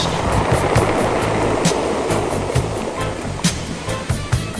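Surf breaks and washes continuously at a beach on a quiet morning at San Onofre, a close, steady roar of churning water with sharper crashes and hiss rising periodically.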